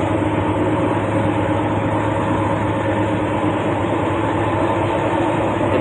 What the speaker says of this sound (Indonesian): Oke, motor bisa nyala.